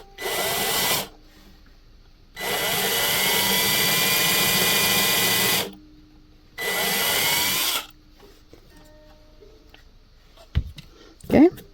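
A power drill with a 1/8 inch bit bores a hole for a guitar strap button. It runs in three whirring bursts, the middle one long, followed by a few close handling clicks and knocks.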